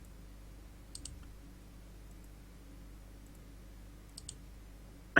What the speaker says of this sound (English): I can hear you clicking